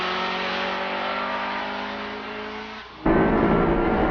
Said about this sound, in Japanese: マシンのサウンドが今つくばによみがえる